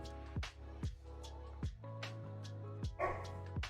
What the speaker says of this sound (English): My dog's woofing.